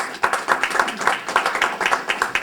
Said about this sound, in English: Let's give them all of a round of applause